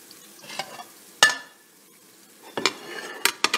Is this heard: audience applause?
no